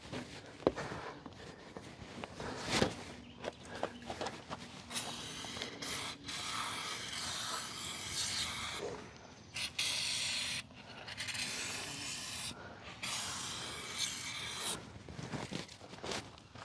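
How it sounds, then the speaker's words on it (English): Lubricant is sprayed onto the rubber ends during a semi truck fifth wheel installation, heard as several close, hissing bursts separated by brief gaps, mixed with scraping and handling noises. "spray some of that lubricant on those"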